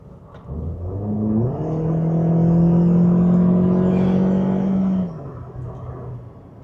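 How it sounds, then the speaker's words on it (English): A ten-year-old Toyota Corolla engine swells into a loud, droning roar under acceleration, holding steady for a few seconds before easing off. "this engine is loud when you start to put your foot into it"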